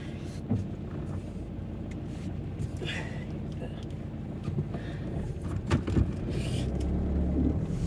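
A bus going by on a rainy street in about 7°C weather, its engine rumble swelling gradually and becoming louder toward the end, with street noise throughout.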